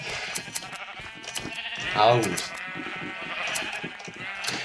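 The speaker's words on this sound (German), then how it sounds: "Der größte Teil der Schafe hier sind weiße Schafe" Sheep bleat in the video game Minecraft, a single wavering bleat standing out over busy game sounds and background music, while someone speaks briefly.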